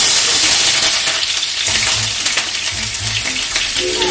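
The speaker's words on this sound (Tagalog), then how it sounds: "ang ihalo natin sa ating bihon ay carrot, capsicum at saka beans" Bihon noodles stir-fried with carrot, capsicum and beans sizzle loudly and steadily in a hot pan. Irregular scraping and clinking from the stirring sit over the frying hiss.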